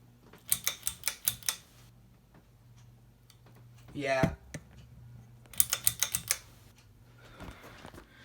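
A Hampton Bay ceiling fan running with a fault, giving off rapid bursts of mechanical clicking and ticking in quick clusters, with a brief voice sounding between the bursts.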